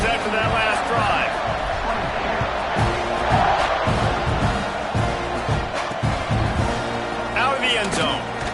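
Stadium crowd roaring in College Football 26 during a Texas A&M kickoff, a dense sustained wash of cheering under steady commentary talk.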